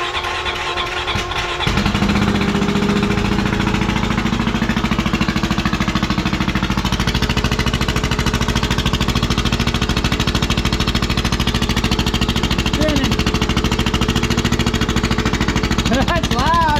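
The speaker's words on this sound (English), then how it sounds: "We'll give this impeller a couple spins to get that oil working around our bearing." A turbocharger's impeller spins up during an engine test run. After a short quieter stretch, a loud, steady, rough mechanical roar starts and holds unbroken to the end, with a faint whine rising near the close.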